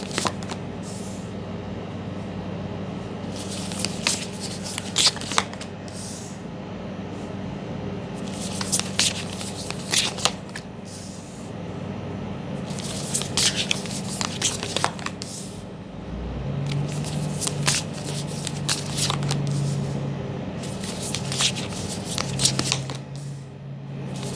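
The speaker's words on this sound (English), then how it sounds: "Okay guys, I'm gonna select the 8 cards now" A deck of tarot cards being shuffled close by, repeated riffling bursts of papery rustle every few seconds over a steady low background hum, no talking.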